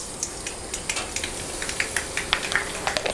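Mustard seeds popping and sizzling in hot coconut oil in a pan while cooking Kerala sadya koottu curry, a steady frying hiss with irregular sharp crackles and pops, close and alone.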